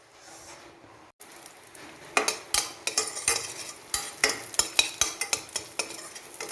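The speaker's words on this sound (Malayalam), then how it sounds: "ഒരൽപ്പം മുന്തിരിങ്ങയും കടലയും കൂടെ ഉണ്ട് അതും ഇതുപോലെ തന്നെ വറുത്ത് കോരി എടുക്കണം" Raisins and peas frying in a pan of hot fat for semiya payasam, a quiet hiss giving way to a run of sharp spoon scrapes and clinks against the pan over a steady sizzle, close by and with no talk.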